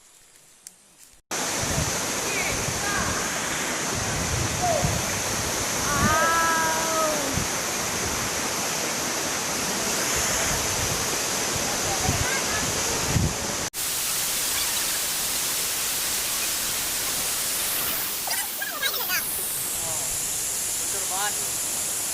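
Steady broadband roar of the Lae Soraya waterfall in Subulussalam, loud and continuous throughout, with a few faint voices and a brief whistle-like tone over the rushing water.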